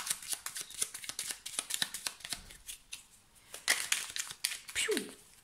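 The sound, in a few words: shuffling and drawing a tarot card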